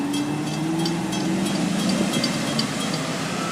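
A Florida East Coast freight train, a unit train, rolls steadily past a trackside spot at County Road 512 West on the FEC main line, its end-of-train device going by in a continuous near, even rumble with a low tonal hum.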